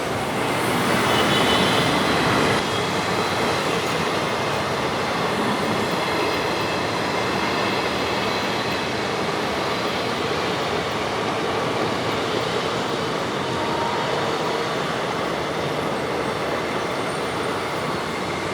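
A long freight train loaded with motor vehicles rolls steadily past, a continuous loud rumble with rhythmic clattering of wheels on the track and occasional faint squeals.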